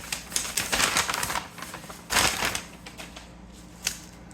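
Paper envelopes torn and pulled open by hand, with crinkly rustling bursts that come close together and then a louder rip, all fairly near and with no talk.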